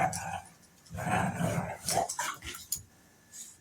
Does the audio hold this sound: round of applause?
no